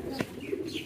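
Escaped fantail pigeons cooing, a couple of soft low coos close by in a brief moment with quiet background noise.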